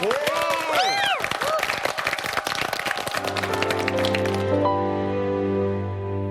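Studio audience applause on a Korean TV variety show, a dense patter of clapping under an excited announcer's voice, fading as a ballad's instrumental intro begins with sustained tones.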